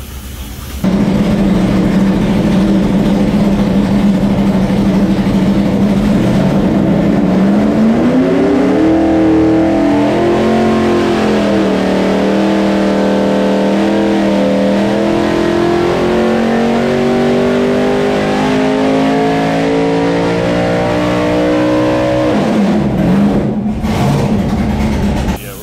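Car engine on a dyno in a Holley EFI versus carburetor comparison, a loud continuous roar that climbs steadily in pitch through a long rev, holds near the top, then drops sharply and settles back to idle.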